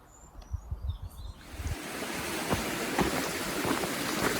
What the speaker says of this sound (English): We are going to be crossing this river about 4 times. It's really pretty and it sounds nice.